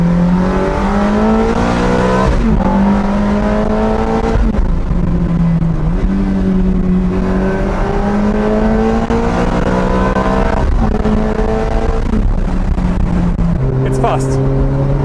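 Ferrari F430 engine accelerating in race mode heard from inside the car, a loud sustained roar that repeatedly climbs in pitch through the gears.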